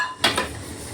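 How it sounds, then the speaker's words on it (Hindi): Dishes, pots and pans being washed, with a sharp metallic clatter followed by a few lighter clinks, close by and alone without talk. "और अब हो रहे हैं बर्तन।"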